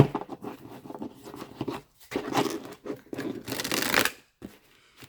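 Tarot cards being shuffled in quick riffling bursts, separated by brief pauses, close and moderately loud with no talking.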